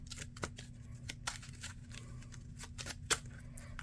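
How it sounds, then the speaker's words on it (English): Playing cards for Marvel Champions being shuffled by hand, a quiet riffle of soft flicks and light snaps over a steady low hum, with one sharper slap near the end. "Let's shuffle a little bit more"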